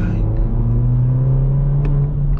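A modified BMW 118i F21 accelerates hard on an open road, its engine note climbing steadily in pitch, loud and close from the cabin, with no voices.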